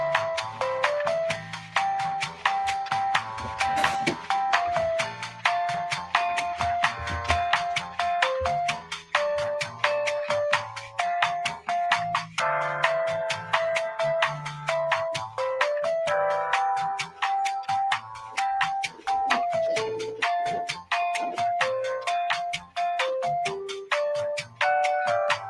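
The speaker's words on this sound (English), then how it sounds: "Pudgy, start the voicemail music." Voicemail hold music plays on a podcast, a bright, chiming ringtone-like melody looping steadily and loudly for the whole stretch with no talking over it.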